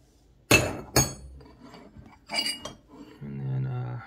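Vintage J.H. Williams metal wrenches clink as they are handled, two sharp close metallic chinks followed by softer knocks and scrapes.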